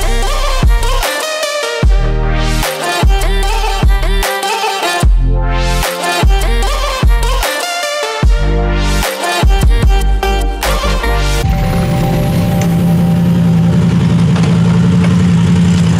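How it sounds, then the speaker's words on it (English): A Yamaha MT-10 motorcycle, built on the R1 engine and frame, runs through a stretch of loud, pulsing, stop-start engine bursts, then settles into a steady, rushing riding drone with a low hum for the last few seconds. "And we have an MT10. It's just a monster of a bike, based on R1."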